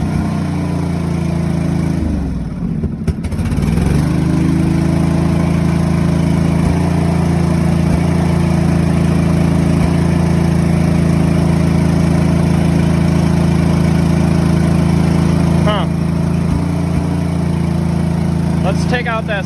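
A John Deere 425 lawn tractor engine runs rough as if firing on one cylinder, a loud steady drone with uneven pulsing that dips briefly near the start, while someone talks over it.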